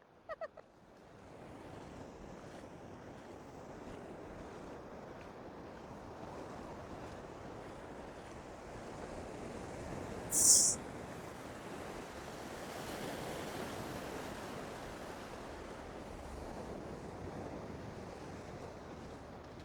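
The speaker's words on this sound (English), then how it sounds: "I don't know if they can hear the crash. crash of the waves" Ocean surf rolls and crashes steadily onto the beach at Pawleys Island, a broad continuous wash of waves with wind buffeting the microphone and one brief sharp spike midway, no voices.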